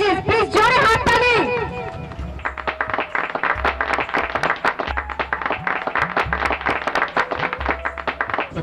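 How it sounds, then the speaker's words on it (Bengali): A crowd at a Durga Puja beauty pageant applauds, first under a loud burst of voices and then as steady, dense clapping, while a low electrical hum drones underneath. "Please welcome to our জাজেস, please জোরে হাততালি।"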